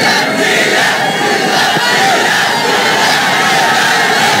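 Cricket stadium crowd at a T20 match in Chittagong roaring and cheering, a dense, loud and sustained wall of voices with yells and whoops rising throughout.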